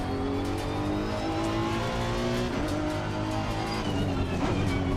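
Race car tyres squealing as the brakes lock up in Assetto Corsa Competizione at Kyalami, the skid sustained over a loud, steady engine drone throughout.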